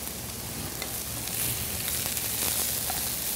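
Scallops searing in a dry pan with no milk sizzle in a loud, steady, crackling hiss that runs unbroken from start to finish, with no one talking.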